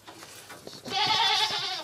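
Young goats bleating on a farm, a loud wavering cry rising out of quieter background noise near the end and holding for about a second, close to the microphone.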